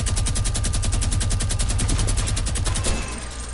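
Sustained rapid-fire minigun burst from a video game, a dense continuous rattle of rounds at steady rhythm, loud and close, tapering near the end.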